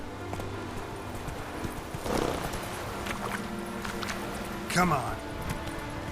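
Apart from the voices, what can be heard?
horse Roach galloping in video game The Witcher 3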